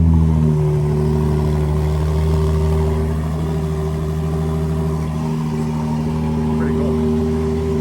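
A car engine idles after a reluctant cold start with a deep, steady rumble and a slight swell in revs, holding a low droning tone throughout with no talking over it.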